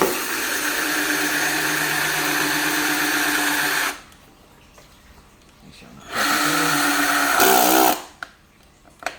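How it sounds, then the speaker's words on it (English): A power drill with a hole saw whines loudly for a few seconds, stops briefly, then runs again before cutting off, with a few words spoken in between. "So I just take this hole saw drill right here."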